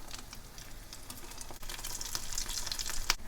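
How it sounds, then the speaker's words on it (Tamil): Mutton keema pieces fry in hot oil in a pan, a continuous close crackling sizzle that grows slightly louder, with a sharp pop near the end. "இப்போ ஒவ்வொரு கைமாவாக போட்டு பொரிச்சு எடுத்துக்கலாம்"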